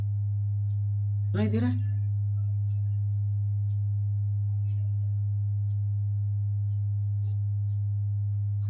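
A steady, low 100 Hz test tone hums unbroken through the whole stretch during a physics class demonstration on sound, with one voice speaking briefly near the start.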